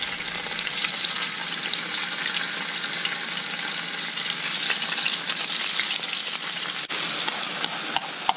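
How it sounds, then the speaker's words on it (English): Fish fillets frying in a pan of marinade-flavoured oil, a loud, dense, continuous sizzle and crackle close by, alone without talk. "all we're going to do, just throw our fish in there now."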